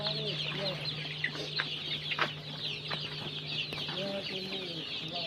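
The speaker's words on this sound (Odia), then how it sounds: "ତ ଦେଖିବା ତ କୁକୁଡ଼ା ପୁରା ଫ୍ରି ଅଛନ୍ତି ଭାଇ ପୁରା ହେଲ୍ଦି ଅଛନ୍ତି" Desi chickens at a poultry farm cluck and murmur close by in a continuous chorus over a steady low mechanical hum.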